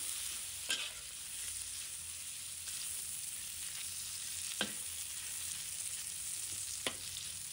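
Pork belly and garlic stir-fry in a wok with a soft, constant sizzle and occasional sharp spatula scrapes against the metal, quiet and close with no talking.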